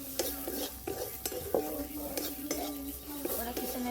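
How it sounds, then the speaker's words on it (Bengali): A spoon scrapes and clinks against a wok as cooked green pea filling is emptied out, with a series of sharp metallic taps and scraping strokes at a quiet, close level. "এবার আমি কড়াই থেকে ঢেলে নিচ্ছি"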